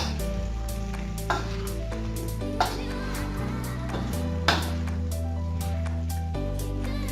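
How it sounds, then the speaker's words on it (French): Apples sizzling in a hot pan for tarte tatin as a spoon stirs them, a continuous frying hiss close by broken by a few sharp scrapes and clinks of the spoon. "On va mélanger de temps en temps avec la cuillère."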